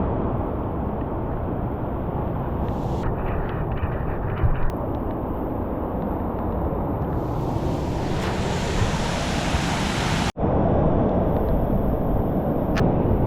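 Powerful waterfall at Whiteoak Canyon pours in a loud, steady roar of rushing water with broadband spray noise, close by and unbroken, briefly buffeted by wind.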